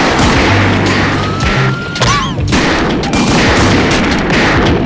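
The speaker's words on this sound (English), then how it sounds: "They shot the light off!" Several loud gunshots ring out amid a busy street scene during a police chase, with steady background noise and a brief sharp burst partway through.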